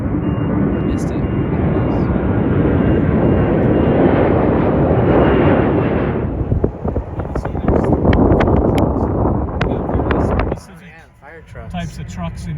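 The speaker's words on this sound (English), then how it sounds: "there's a plane getting ready to take off" A fixed-wing airplane takes off at Phoenix Sky Harbor Airport, giving a loud, sustained jet roar heard from near the runway that fades toward the end, mixed with wind buffeting the microphone.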